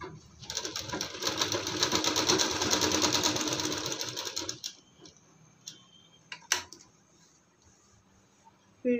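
A sewing machine runs steadily for about four and a half seconds, stitching the elastic casing at the waist of a palazzo, then stops, leaving a few light clicks and handling sounds.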